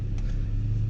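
Car pulling up onto an alleyway at night, a brief steady low engine rumble and hum heard from inside, continuous with no talking.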